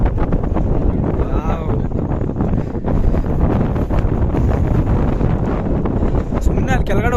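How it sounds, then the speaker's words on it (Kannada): Strong wind roars and buffets the microphone on a mountain hilltop, a continuous loud rushing with no let-up from start to finish. "ಎಲ್ಲಿ ಗಾಳಿ ಬರ್ತಾ ಹೊಡಿತಿದ್ದೆ."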